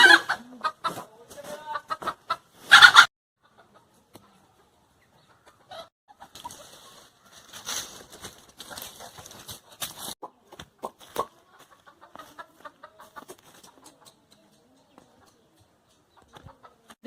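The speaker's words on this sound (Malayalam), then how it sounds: "ഗ്രാമശ്രീ ഇനത്തിൽപ്പെട്ട പൂവൻകോഴിയാണ് ഇത്" A Gramasree breed rooster clucks nearby in short, scattered bursts separated by quiet pauses.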